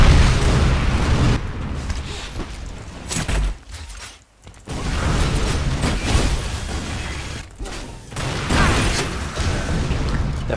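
Rocket launcher blasts in Unreal Tournament 4 gameplay, loud booming explosions in rapid succession with mechanical clanks and debris bursts, nearly continuous and up close.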